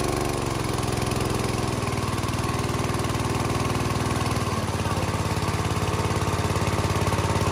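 A 6.5 hp engine drives a Phaya Nak water pump pipe, a loud steady chugging drone that drops slightly in pitch partway through as the revs ease.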